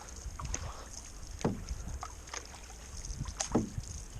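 Canoe paddling on a calm lake in Algonquin Park wilderness, soft rhythmic paddle strokes and water swishes over light wind noise, close and quiet, with no talk.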